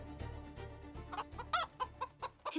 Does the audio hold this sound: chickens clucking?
yes